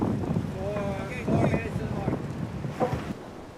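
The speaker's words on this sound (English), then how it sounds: "Looks windy to me." Wind gusting over a sailboat racing with a crew on board, rushing and buffeting the microphone in uneven surges, with faint voices beneath.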